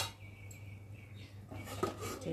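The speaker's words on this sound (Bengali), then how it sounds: "এবার ঢাকাটাকে খুলবো" A lid comes off a cooking pot holding a simmering banana-flower curry with potatoes. One faint metallic clink and a light rattle sound near the end, over a low background hum.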